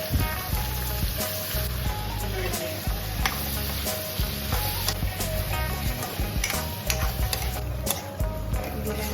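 Onion and tomato with two bay leaves frying in a pan left over from frying meat, with a loud, continuous sizzle and frequent scraping, stirring clinks against the pan, and no talking.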